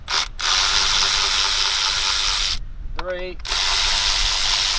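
A ratchet loosens 10mm rocker cover bolts on a Mini Cooper engine with loud, rapid, continuous clicking that stops briefly in the middle. A man counts out a number during the pause.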